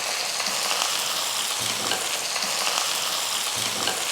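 Chopped onion, garlic, green chillies and curry leaves sauté in hot oil with a loud, steady sizzle, broken by a few soft scrapes of stirring, close and with no talking.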